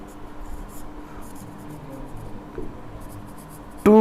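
Chalk or marker writing a condition on a classroom board during a vector maths lesson, soft scratchy strokes in short bursts under quiet room tone, ending with a sudden louder tonal sound.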